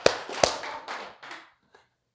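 Hand clapping during a Buddhist lecture, a few sharp close claps followed by softer patters that trail off into quiet.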